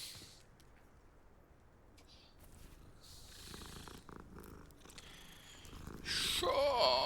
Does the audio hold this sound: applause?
no